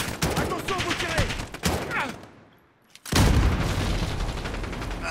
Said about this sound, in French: Attention, vous tirez!